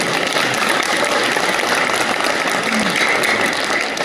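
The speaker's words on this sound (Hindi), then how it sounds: "जोरदार तालियां सर के लिए" An audience at a direct-selling company event applauds loudly for an honored guest, a continuous, even wash of many hands clapping without pause.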